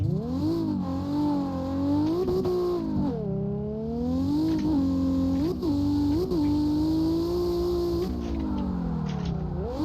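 A drift car engine revs hard in fifth gear on the run-up, its loud, steady note rising and falling through repeated throttle swells and dips, close and continuous for the whole stretch with no talking.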